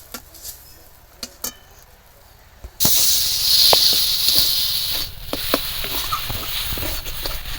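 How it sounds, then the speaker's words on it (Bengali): Thick green tomato mixture, made with coriander leaves, is stirred in a pan over low heat, giving a steady close sizzle with scattered scraping taps of the spatula after a quiet start. "একদম হালকা তাপ দিয়ে এইভাবে নাড়তে থাকবো ঘন ঘন যে রসটা একদম খুব ভালো করে শুকিয়ে নিতে হবে"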